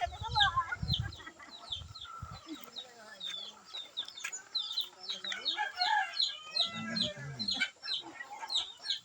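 Chicks and chickens cheeping and clucking nearby, a busy run of high peeps over occasional lower clucks, with people talking softly at times.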